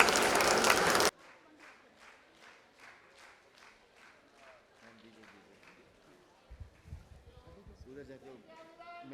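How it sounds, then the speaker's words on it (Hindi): An award ceremony audience gives a short, loud burst of applause. It cuts off abruptly and leaves a trail of sparse, regular claps, followed by people talking. "तालियां जोर से बजती रहनी चाहिए"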